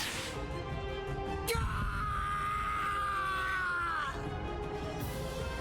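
A man screams in pain in the video game Bleach Rebirth of Souls, a sustained strained cry lasting a couple of seconds, ending in a sharp break, with game sounds around it.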